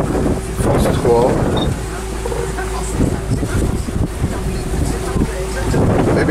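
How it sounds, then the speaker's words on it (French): Strong wind buffets the microphone on a sailboat in the Gulf of Fos, a steady roaring rush with gusty surges and water noise close by, while someone talks over it. "Le vent est remonté d'un seul coup"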